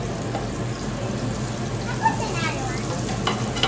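Chili flakes sizzle in hot oil in a pan while a seafood pasta is cooked, giving a steady, close crackling hiss throughout with a few brief stirring scrapes.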